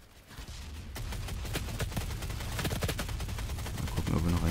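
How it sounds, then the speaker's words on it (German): Rapid gunfire in DOOM multiplayer, a dense stream of shots and bursts that grows louder toward the end, with heavier blasts mixed in. "Wir werden aber leider gerade beballert"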